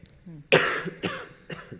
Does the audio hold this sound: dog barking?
no